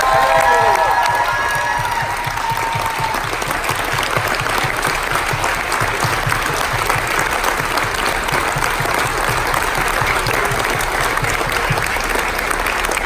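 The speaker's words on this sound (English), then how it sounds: "how about a thunderous round of applause for all those that were deployed through the various wars" A crowd at a veterans' appreciation party aboard a Carnival cruise ship claps and cheers in thunderous, sustained applause, with a few voices rising above it at the start.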